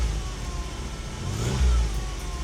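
The engine of a 1992 Toyota 4Runner with a suspected shifter fault at a junkyard idles, then revs up in one short surge, close and fairly loud.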